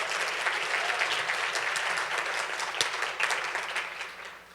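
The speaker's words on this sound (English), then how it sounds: "If we could give her a round of applause." A room full of people clapping for a speaker at a political engagement conference, sustained and fairly loud, with a sharp clap or two standing out before the applause gradually thins and fades.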